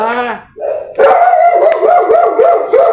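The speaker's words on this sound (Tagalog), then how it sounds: "Maingay yung isang aso." A large dog howls with a rising, wavering cry, then barks and howls repeatedly, loud and close, in a household setting while a person is briefly heard nearby.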